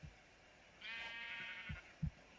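A Minecraft sheep gives a single drawn-out bleat, moderately close, over faint game ambience and a few low thumps.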